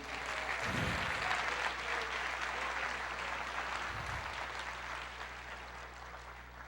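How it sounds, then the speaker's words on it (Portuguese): Church congregation applauding during an Easter resurrection sermon, a dense steady wash of clapping filling the room, with a couple of low thumps and no speech. "Você pode aplaudir o Senhor"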